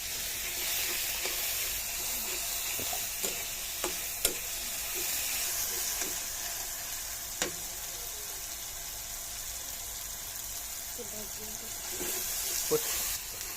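Turmeric, chili and salt fry in a pan for a fish roe dish, making a constant bright hiss with a few soft clinks of a stirring spoon scattered through.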